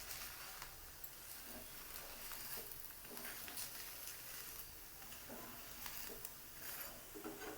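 Minapa attu, an Andhra-style urad dal dosa topped with onion and green chilli, sizzles softly on a hot pan with a faint, steady crackle and occasional small pops.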